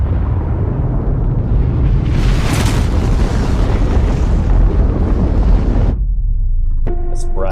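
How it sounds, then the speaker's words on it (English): The 1961 Soviet Tsar Bomba, a 50-megaton nuclear bomb, detonates in a loud, sustained roaring rumble lasting about six seconds. The roar cuts off abruptly and leaves faint tones behind. "Russia recently declassified secret footage of its 1961 detonation"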